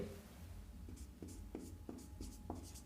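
Chalk or marker strokes on a classroom board during a physics lesson on charge types, a series of short scratchy taps and squeaks in an uneven rhythm, moderately close and fairly quiet against a low room hum.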